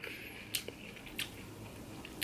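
Biting and chewing shrimp salad at a mukbang eating show: a few sharp, close crunchy bites spaced apart over a faint background hiss, with no talking.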